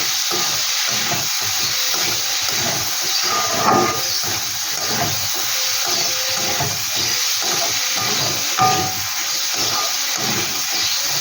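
Small chicken pieces hit a hot pan with ground coriander for a chicken roll filling, a loud steady close sizzle with faint stirring.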